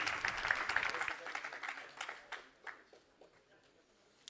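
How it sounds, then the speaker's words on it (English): Graduation ceremony audience applauding, a scattered round of clapping that starts fuller and thins into sparse, fading claps, with a low murmur early on. "Big round of applause."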